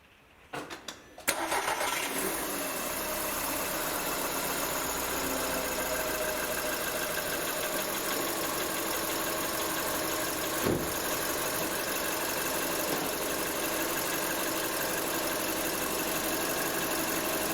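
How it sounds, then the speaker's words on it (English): A 2007 VW Golf Plus engine cranks and catches after a second, then settles into a steady, even idle that runs on without interruption, heard close. "Now I'm gonna get the engine running."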